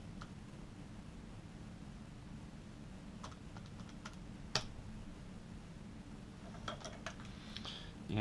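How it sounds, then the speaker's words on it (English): Soft keyboard keystrokes entering numbers on a calculating machine during a math lesson, sparse clicks in short bursts over a steady low hum, faint and close, with no talking. "And typing that into the machine,"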